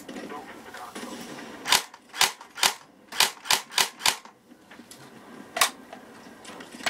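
An airsoft AK47 rifle fires on semi-auto, giving about nine sharp, close snapping shots in an uneven run with short pauses, then one more shot after a gap, over faint background hiss.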